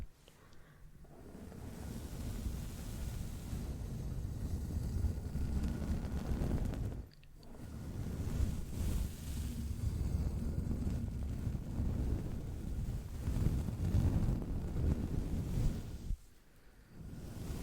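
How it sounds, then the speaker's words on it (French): Soft rushing whoosh resembling ocean waves in a calming ASMR session, swelling and fading in long washes with two brief pauses, close and fairly quiet. "Ouais, ça fait comme les vagues."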